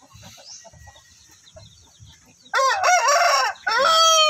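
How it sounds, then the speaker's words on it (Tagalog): A rooster with striking colouring and patchy feathers at one side of its head crows loudly and close by, one long strained call with a short break near the end, after a few seconds of faint clucking and low murmurs. "So panay tilaok siya, kasi daw binibidyohan siya."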